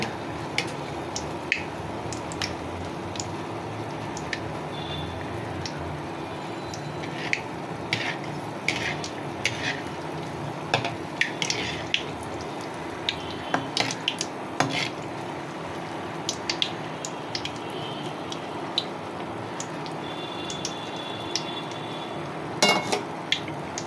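Date-jaggery-filled poa pitha frying in oil, with hot oil spooned over the tops. A soft, low sizzle runs underneath scattered clinks and scrapes of a spoon against the pan. Fairly quiet and close, with no talking.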